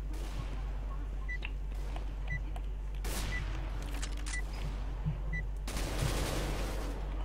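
Rapid bursts of P90 submachine gun fire in the video game CS:GO, dense and continuous over a steady low hum, with scattered game beeps and a sharper flurry of shots toward the end.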